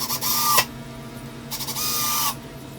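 Two bursts from a power drill driving screws into a garage French cleat shelf, each about half to three-quarters of a second of high whirring, separated by a quieter pause; close and fairly loud with no talking.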